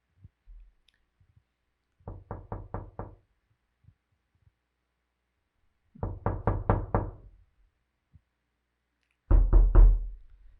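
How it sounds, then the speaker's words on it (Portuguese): Door-knocking sound effect played during a church sermon: three bursts of about four to five firm, evenly spaced knocks, close and distinct, separated by quiet pauses. "O nosso sonoplasta passou aí o som de batido de porta"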